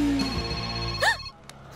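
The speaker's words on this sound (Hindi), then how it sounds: "घंटी बजी तो ये वाइब्रेट मोड पे की चली गई" A phone ringtone plays in a Hindi-dubbed South Indian comedy film scene: a bright, melodic tone that rings for about a second before cutting off, with voices around it.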